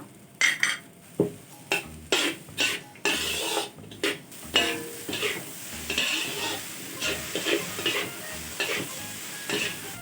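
Rice is stir-fried with Chinese sausage in a pan, with rhythmic metal spatula scrapes and clanks repeating about once a second over a constant close sizzle, no talking.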